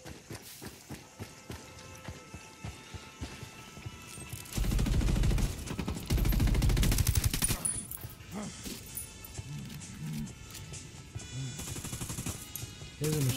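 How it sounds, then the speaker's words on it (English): Bursts of machine gun fire crackle in the video game Ghost Recon Wildlands, mixed with running footsteps and other game sounds, and grow loud and dense in the middle while players talk over the action. "I heard machine gun fire."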